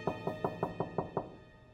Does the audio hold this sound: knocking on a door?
yes